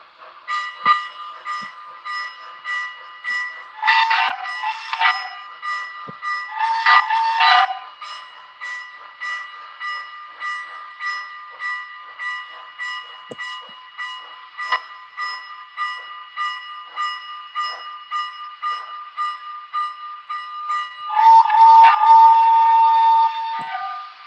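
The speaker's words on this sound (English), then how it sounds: "I love that whistle." Steam engine train whistle blowing in three distinct blasts, two short ones close together early on and a longer one near the end, loud and near over a steady chugging rhythm of the locomotive.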